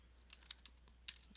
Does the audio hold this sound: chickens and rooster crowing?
no